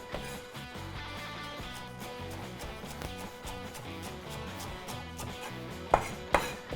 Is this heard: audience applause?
no